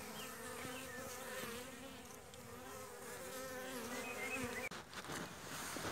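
Honeybees buzzing at the entrance of a weak hive in rainy conditions during a pollen and nectar shortage, a steady close droning hum with a brief thump near the end.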